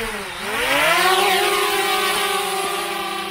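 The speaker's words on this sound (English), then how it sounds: "I'm gonna press the auto takeoff. And we'll see if this little drone can do it." A DJI Spark mini drone spinning up its propellers for an automatic takeoff after crashing in a river: a rising high-pitched whine that climbs quickly, then settles into a loud, steady buzzing hum close by.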